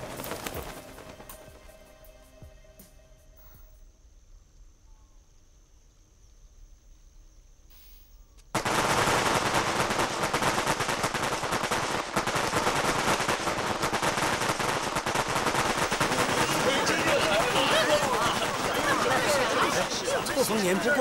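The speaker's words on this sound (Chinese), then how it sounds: "放什么鞭炮啊？" Firecrackers go off outside in a long, loud, dense string of rapid crackling bangs. They burst in abruptly after a quiet stretch and continue without pause.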